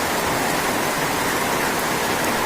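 Heavy rain pours down steadily, a dense, unbroken hiss with no pauses or other sounds.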